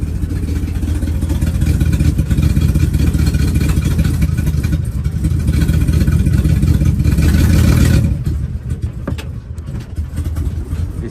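A 2019 Ford E350 van's engine runs loud and steady up close with a broken exhaust pipe at the passenger-side manifold collector, the rumble rising slightly before dropping to a quieter idle near the end.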